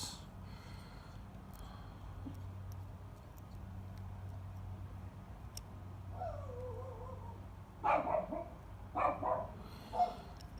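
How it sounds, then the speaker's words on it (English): Several dogs bark in a brief, excited volley toward the end, a few sharp yelps standing out over a steady low hum. "I don't know if y'all can hear dogs in the background just going nuts."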